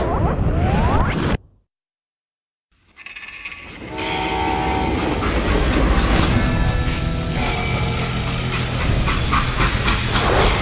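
A freight train in the Western shooter Call of Juarez: Gunslinger blasts loudly, cuts out to a brief silence, then returns as a sustained steam hiss and rolling rail clatter with a long horn-like tone.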